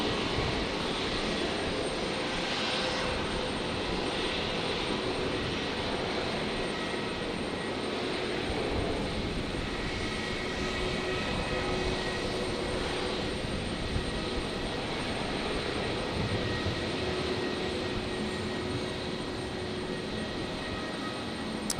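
Velocity airliner on approach to land at Brisbane Airport's runway 19 left at night, a steady broad jet engine roar holding at an even, fairly loud level throughout with no talk.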